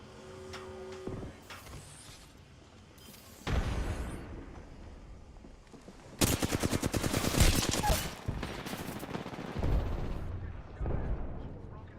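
Gunfire in Apex Legends: scattered shots, then a dense rapid burst of automatic fire midway, with further bursts and impacts after it, mixed with game effects.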